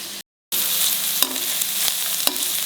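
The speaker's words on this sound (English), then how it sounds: "It has to fry well" Chopped ripe tomatoes fry in a pan for tomato chutney over a medium flame, a steady close sizzle broken by a brief cut to silence, with a few sharp stirring clacks against the pan.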